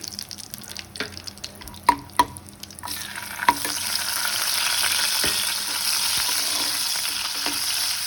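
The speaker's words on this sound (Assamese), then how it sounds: "প্ৰথমতে মই ইয়াত এইকেইটা ড্ৰাই ফ্ৰুট কেইটা ভাজি লৈছো" Dry fruits such as cashews, almonds and raisins frying in ghee in a pan, a few sharp stirring knocks and clinks at first, then a steady, close, bright sizzle that fills the rest.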